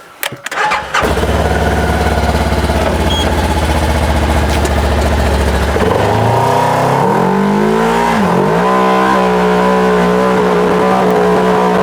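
A Segway Villain or CFMoto SSV side-by-side off-road vehicle cranks briefly, fires up and settles into a loud, close idle, then revs up and drops back partway through.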